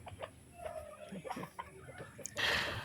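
Chickens kept tied up at a home yard cluck in short, scattered bursts close by, with a brief louder flurry near the end and no talking.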